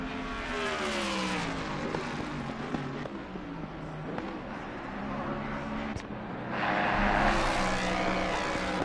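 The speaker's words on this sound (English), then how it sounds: "That Ford Mustang really galloping through the straightaway." A Ford Mustang GT3 race car in a racing video game at Bathurst, its engine a steady, loud, buzzing drone with shifting pitch that surges louder near the end.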